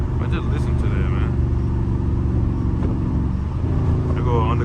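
A Dodge Charger Scat Pack with straight-pipe exhaust rumbles loudly and steadily from inside the car while driving, a deep continuous engine drone with someone talking over it.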